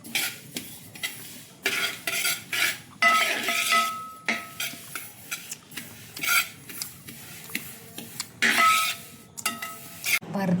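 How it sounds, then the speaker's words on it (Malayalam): Sesame seeds are stirred and roasted in an uruli over a wood-fired stove, giving repeated bursts of close scraping and rattling with short pauses between strokes. "അത് എള്ളെടുത്തിട്ട് നന്നായിട്ട് വറുത്തെടുക്കണം കേട്ടോ"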